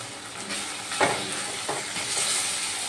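Two green chillies stirred into a sizzling pan of cooking beans with a little water: a steady loud frying hiss broken by a few spatula scrapes and bursts of stirring.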